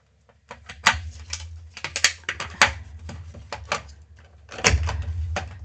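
A paper craft punch works through paper in a string of sharp clacks and snaps, irregularly spaced and close, with a heavier thunk toward the end and no talking.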